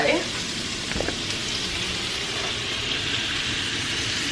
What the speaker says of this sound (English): You hear that meat going off? I would say sear it for like a minute on each side until it's brown.